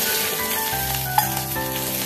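Tempering spices sizzling in hot oil give a short, steady, close crackle with one sharp tick partway through.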